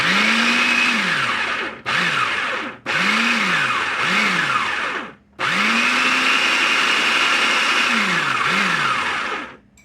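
A food processor pulses pizza dough flour and yeast in loud whirring bursts that rise and fall in pitch, with brief gaps between the pulses.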